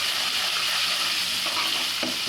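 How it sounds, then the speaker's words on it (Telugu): Spice paste fries in hot oil with cumin for an onion curry, giving a dense, even, close sizzle that holds steady with faint stirring scrapes underneath. "దాన్ని ఇలాగా మనం పచ్చివాసన పోయే వరకు కొంచెం వేయించాలి"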